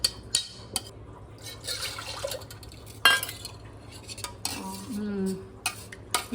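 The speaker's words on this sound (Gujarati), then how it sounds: "આંબલીનું પાણી છે એ નાખી દઈએ હવે આપણે આ પેસ્ટમાં" Soaked tamarind water poured into garlic paste in a large pot, with scattered clinks of a steel vessel and spoon and a brief splashing pour, close and fairly loud amid kitchen clatter.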